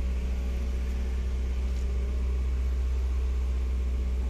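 A car engine idles high just after starting, a steady, loud low drone with a constant hum and no change in pitch or rhythm, no voices.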